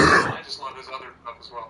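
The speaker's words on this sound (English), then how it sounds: "Actually, that was a cough" A single short, close cough from a person bursts out at the start, followed right away by someone speaking casually.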